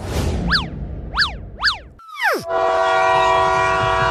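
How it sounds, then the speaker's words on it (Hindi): Cartoon train pulling away, with three bouncy rising-and-falling whistle toots followed by a swooping drop and a loud, sustained horn blast, all produced as comic effects. "ट्रेन चलने लगी।"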